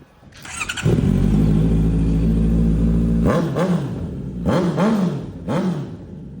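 A sports motorcycle engine on sale revs loudly and close up, holding a steady drone for a few seconds before several sharp throttle blips rise and fall, with no talk over it.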